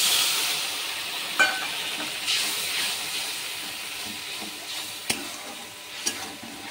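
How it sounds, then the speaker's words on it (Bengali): Water hits hot spiced oil with salt in a pan, releasing a strong steamy hiss that slowly fades, with a few sharp utensil taps near the pan. "লবণ দিয়ে দিয়েছি, এবার জল দিয়ে দিব।"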